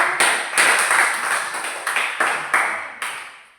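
Junior high English class applauding a student group, bursts of clapping that start and fade in repeated waves, close and fairly loud, trailing off at the end.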